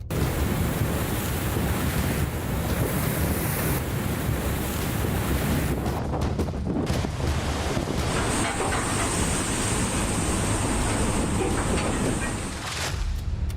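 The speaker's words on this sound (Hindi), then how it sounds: "लहरों के शोर से सहमे राज्य।" Ocean surf pounding the shore as a cyclone approaches the coast, a loud, continuous roar of waves mixed with heavy wind noise buffeting the microphone throughout.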